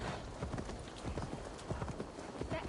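Rapid hoofbeats of a galloping horse in Assassin's Creed Valhalla thud in a steady rhythm, fairly quiet, with no talking over them.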